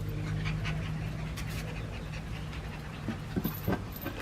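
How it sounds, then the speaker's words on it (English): Rescue puppies at a cat shelter's puppy room, panting steadily with faint whimpers and small yelps near the end, close by and fairly quiet against a low room hum. "Got some new puppies to show you guys this time."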